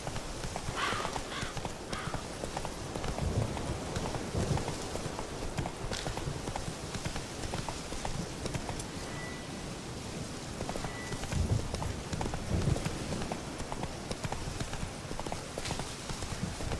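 Steady clip-clop of Roach, a horse in The Witcher 3: Wild Hunt, trotting over ground with light rain-like patter, the hoofbeats close and continuous throughout with faint background ambience.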